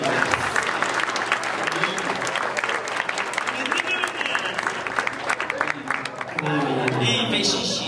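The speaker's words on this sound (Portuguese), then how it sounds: "uma salva de palmas na cena" Sustained audience applause fills a hypnosis stage show: dense, steady clapping from a crowd over nearly eight seconds, loud and close, with voices and crowd chatter mixed underneath.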